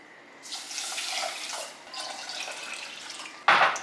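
Water is poured into a pot of rice, one and a half cups at a time: a steady splashing pour lasting about three seconds, close by, ending in a brief sharp clunk, with no talking.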